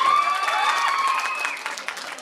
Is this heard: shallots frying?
no